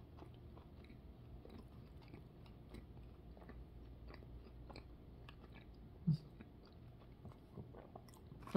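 Someone chews a Totino's breakfast roll with cheese and bacon filling, soft close mouth sounds and faint crunches running steadily under a quiet room hum, with one louder click near the end.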